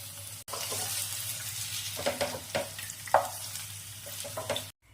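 Paneer frying in a pan for palak paneer, a close steady sizzle with a few soft stirring scrapes and spatula taps, with no talk.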